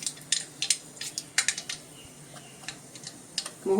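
Mustard seeds crackle and pop in hot peanut oil during a tempering for a vegetable dish, a quick irregular run of sharp snaps that bunch together and then thin out, heard close up with no talking.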